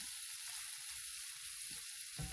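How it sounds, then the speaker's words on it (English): Pancetta fries in a pan, giving a steady, even hiss of sizzling fat that stays quiet and close, with a few faint low knocks and a small clatter near the end. "this is going to cook up like bacon, guys. It's going to get nice and crispy"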